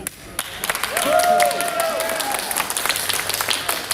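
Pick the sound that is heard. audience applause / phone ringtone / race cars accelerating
audience applause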